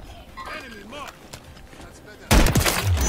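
Heavy gunfire bursts out loud and abrupt in a first-person shooter video game, with an AMR9 among the weapons, following a stretch of voices talking over quieter game sounds.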